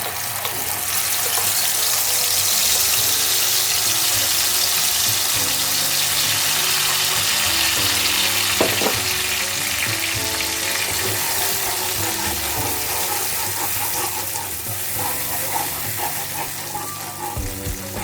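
Tomato paste fries in hot oil with dried red chillies for a garlic bata fish curry. It makes a loud, continuous hiss and sizzle with faint clinks of a utensil, and no one speaks.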